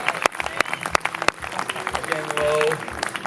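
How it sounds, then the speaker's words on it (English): Audience applause at an outdoor film and music festival, a burst of clapping from a crowd that rises and holds steady for a few seconds, with a voice briefly speaking over it. "Let's give him a round of applause."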